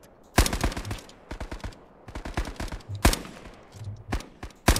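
Gunfire in the WW2 first-person shooter Resolve, sharp separate shots and short quick bursts cracking loudly at irregular intervals against a quiet background.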